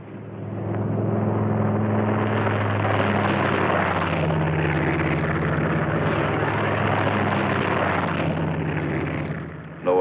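Squadron aircraft taking off, a steady, loud propeller-engine drone with a deep rumbling hum that swells in and holds across the whole stretch, with no voices over it.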